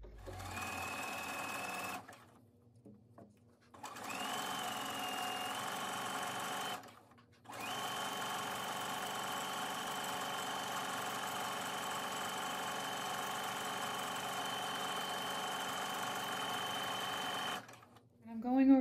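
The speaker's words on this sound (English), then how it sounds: "Let's flip that binding out now and top stitch it." Sewing machine top-stitching a flipped-out quilt binding, running in long steady bursts of a few seconds each with brief pauses between, loud and close throughout.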